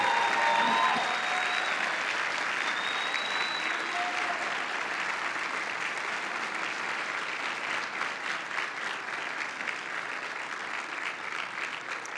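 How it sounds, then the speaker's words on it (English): An audience at the 2022 University of Western States commencement ceremony applauds the faculty in long, sustained clapping that fills the hall, with faint tonal sounds early on and the applause slowly thinning toward the end. "please applaud and thank them for the work they've done for you."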